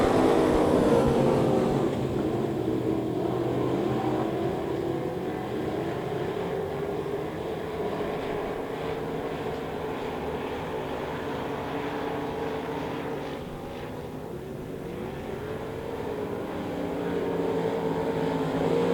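Race cars in a weekly heat race at Devil's Bowl Speedway roar steadily around the track, a loud, continuous engine drone that swells and dips slightly as the pack passes.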